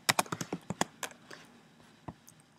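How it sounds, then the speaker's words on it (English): Fingers type on a computer keyboard: a quick run of about seven close, crisp key clicks, then a pause and a few scattered taps. "let me type it in here like that"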